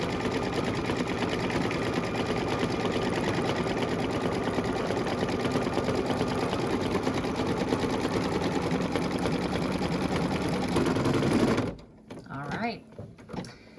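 An embroidery machine stitches out an appliqué ornament with a steady, fast mechanical whir and needle chatter that runs evenly for a long stretch, then stops abruptly, leaving brief quiet handling noises.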